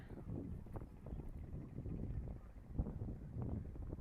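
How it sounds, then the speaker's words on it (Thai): A boat approaches from a distance on the Chao Phraya river headwaters, a low steady engine rumble heard faintly under strong wind buffeting the microphone. "ได้ยินเสียงเรือมาแต่ไกลเลยค่ะ"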